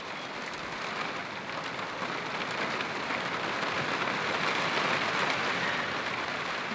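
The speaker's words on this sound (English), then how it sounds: "It rained a lot." Steady heavy rain falls outdoors in bad summer weather, a dense continuous hiss that builds slightly louder over several seconds with no voices.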